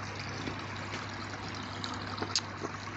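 Water trickling steadily as a koi pond fills, a soft continuous wash with a faint low hum underneath and a brief splash near the end.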